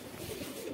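Pigeons cooing close by in a brief low throaty burst while fighting each other, with no voices over it.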